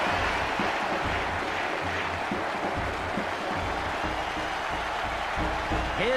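Video game crowd in International Superstar Soccer 98 roars steadily after a goal, a dense, continuous wash of cheering and applause at even loudness throughout.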